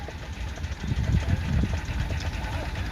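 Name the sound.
Burrell miniature traction engine running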